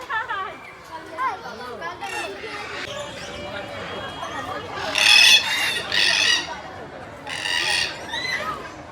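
Birds at a mini zoo in Kolkata, with colorful birds and swans nearby, give repeated crowing and clucking calls that swell in loud bursts, mixed with people chattering and talking close by.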